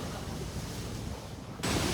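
Sea waves wash over the deck of the ferry KM Kirana VII, soaking parked motorcycles on the Surabaya–Lombok crossing; a steady roaring surge of spray and wind that swells louder near the end, with no voices.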